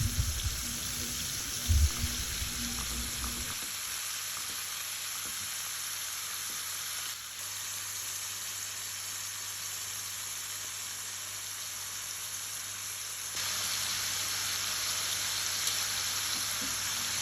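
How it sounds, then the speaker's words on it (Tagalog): Chicken wings frying in a pan give a steady, even sizzle throughout, close and moderately loud, with a few small knocks near the start and no talking. "I-fry ko lang yan ng both sides hanggang konting golden brown."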